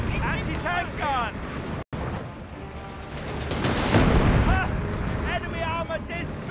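Gunfire and an anti-tank gun sound in a Company of Heroes 3 battle: dense, rumbling bursts of shots and blasts, with a brief dropout partway through and voices shouting over the combat.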